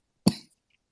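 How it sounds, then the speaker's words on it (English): A single short, sharp cough from a person ill with COVID, close and loud, then silence, with no talking. "And now the cough has just kicked in."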